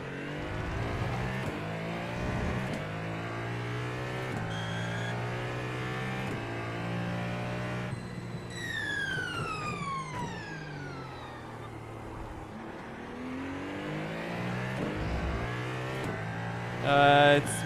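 A pre-GTP LMP2 prototype race car in the iRacing sim screams through its gears, with rising and falling revs and quick shifts; another car sweeps past midway, and the engine stays loud and alone throughout.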